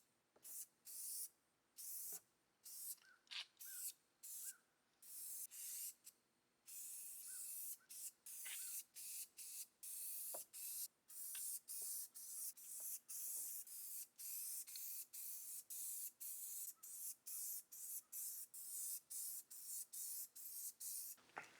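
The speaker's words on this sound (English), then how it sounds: "just with a couple of coats of spray paint, it'll probably be okay" Spray paint hisses from an aerosol can in repeated short bursts, each a second or so long, separated by brief pauses, fairly close and moderately loud with occasional small clicks.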